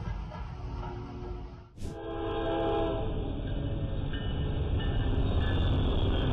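A train horn sounds loud and sustained at a railroad crossing where a train strikes a truck and derails. A sharp impact cuts in partway through, and the horn keeps blaring afterward.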